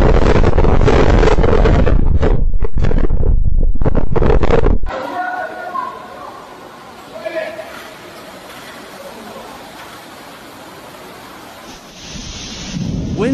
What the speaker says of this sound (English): typhoon are bringing violent winds and heavy showers to the Pearl River Estuary